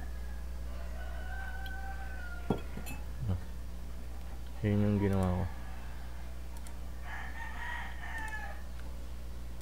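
A rooster crowing outside a home in the early morning: one loud, drawn-out crow in the middle, under someone speaking, over a steady low hum.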